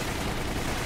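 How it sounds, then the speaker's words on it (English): Dense, continuous gunfire from Resident Evil: The Umbrella Chronicles fills a short burst, a loud and steady wash of shots with no pauses. "Just shooting."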